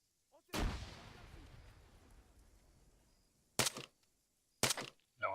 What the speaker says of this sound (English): I'm throwing a frag.